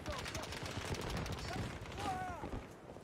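Rapid bursts of video game gunfire crackle and rattle continuously in a muffled, fairly quiet mix, with a voice faintly heard.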